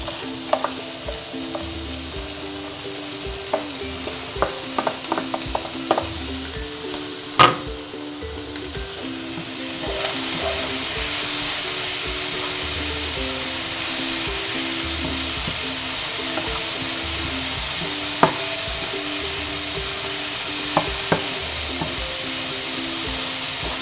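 Three coloured capsicums tumble into a hot pan for paneer bhurji with a few knocks and stirring taps, then a loud, steady sizzle of frying carries on, close and without talk, with occasional spoon clicks.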